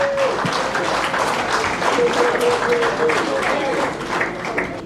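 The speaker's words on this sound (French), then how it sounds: "cette magnifique équipe que vraiment je vous demanderai d'applaudir" Audience applause for a team at a retirement celebration evening, continuous clapping at fairly close range with a held tone and faint voices mixed into the crowd noise.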